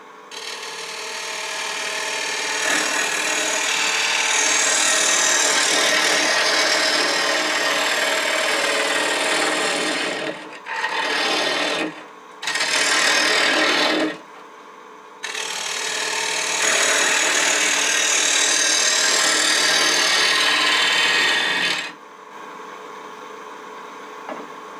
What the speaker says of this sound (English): you got to let the wood come to the cutting edge